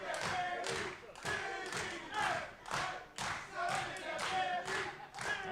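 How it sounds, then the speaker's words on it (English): A wrestling crowd claps and cheers in steady rhythmic bursts, loud and roomy, with arena noise continuing throughout. "Crowd getting into this match already."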